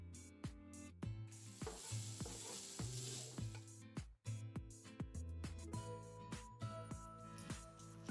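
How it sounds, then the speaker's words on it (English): Smoked beef and golden garlic for fusilli carbonara sizzle loudly in a pan. Rhythmic stirring scrapes and knocks run through the whole clip, with a brief pause midway. "After the garlic turns golden brown, add some smoked beef and stir it up."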